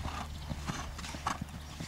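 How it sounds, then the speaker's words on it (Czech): Horse hooves clip-clop in a steady rhythm on a riding ground during a training session, with a brief neigh partway through, heard at moderate distance under low background noise. "Tak, to je ono, přechod do klusu."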